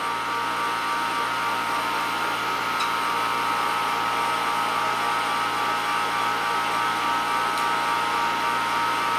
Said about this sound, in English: Turbo pump is online now.